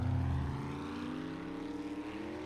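Engine of a drivable car in the survival game 7 Days to Die, a steady droning hum with a low rumble that shifts slightly in pitch as it runs, close and alone.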